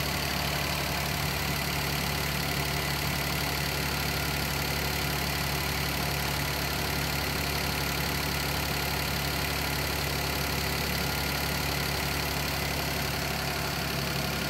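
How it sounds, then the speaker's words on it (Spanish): A car engine idling steadily with the air conditioning switched on, a continuous loud, even drone that holds without change throughout, with no talking. "Si escuchan que suena fuerte, fue porque encendimos el aire acondicionado"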